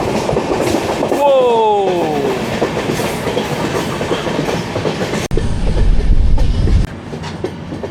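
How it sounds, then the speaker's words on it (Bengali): Kolkata–Sairang Express passenger train (13125) running through hills from Assam toward Mizoram, with a steady loud rumble and wheel clatter throughout, a brief squealing tone early on and a deeper low rumble near the end. "13125 কলকাতা সাইরাং এক্সপ্রেস এখন আসাম থেকে মিজোরামের দিকে ছুটে চলেছে।"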